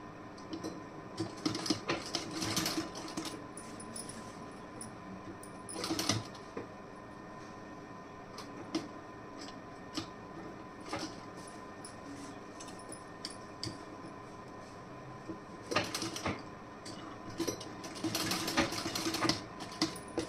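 A sewing machine stitches folded fabric piping in bursts of rapid mechanical clatter, with quieter pauses between runs of stitching.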